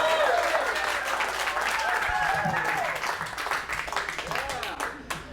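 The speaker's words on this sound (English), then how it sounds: "you guys gotta clap really loud so you hear it" Loud audience applause for a comedian introduced on stage at a stand-up show, dense clapping from a crowd that stays strong throughout and tapers slightly near the end, with a few voices mixed in.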